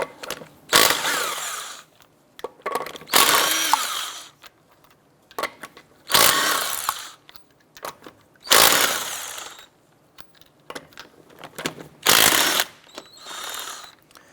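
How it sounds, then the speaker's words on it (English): Lug nuts are removed from a 2006-2013 Chevy Impala with a 19mm socket, probably on an impact wrench: five or six loud, close bursts of rattling, buzzing mechanical noise, each lasting about a second, separated by quieter pauses. "Using a 19mm socket, we're going to go ahead and remove our lug nuts."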